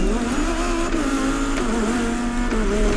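Superbike engine in The Crew Motorfest racing game, held high in the revs with a steady buzzing whine that dips and climbs slightly at gear changes, loud and continuous throughout.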